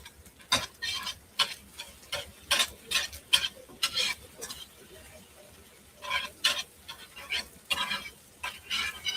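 Sauce whisked in a pan, a brisk rhythmic run of quick metallic scraping strokes in bursts with a brief pause, over a light sizzle.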